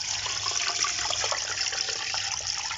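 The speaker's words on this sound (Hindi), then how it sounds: "और तकरीबन इसमें 2 लीटर पानी जाएगा।" A steady gush of about 2 liters of water poured into a pot of beef nihari, splashing and gurgling nearby for a few seconds without pause.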